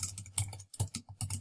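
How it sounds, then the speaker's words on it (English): Quick, close-up keystrokes on a computer keyboard come in short irregular bursts of clicks with a brief pause between them, and no one talks. "I'm going to go ahead and type that in."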